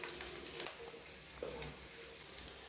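Finely chopped garlic sizzling gently in a hot pan, a steady soft crackle with occasional faint clinks of a spoon, quiet and close with no talk.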